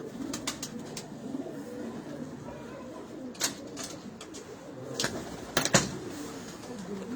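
Breeder pigeons of a stated breed coo softly in a cold, foggy setting, low murmuring calls running steadily under a few sharp clicks and knocks, with no voices.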